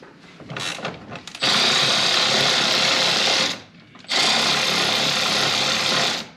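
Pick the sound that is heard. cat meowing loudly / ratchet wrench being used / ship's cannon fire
ratchet wrench being used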